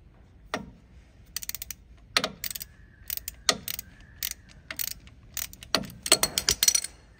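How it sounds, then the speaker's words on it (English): Ratchet wrench clicking in bursts of rapid ratcheting strokes, close and crisp, during wheel speed sensor replacement on a 2012 Ram 2500, with sharp metallic clanks of the tool between bursts. "ratchet."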